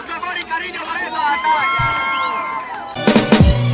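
A crowd at an outdoor plaza freestyle rap battle cheers loudly for a rapper, with high whoops and shouting voices and a louder burst of cheering near the end.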